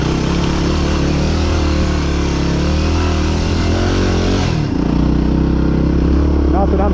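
Dirt bike engine on a mountain trail, loud and close, a sustained rough drone that shifts pitch partway through as the rider changes throttle.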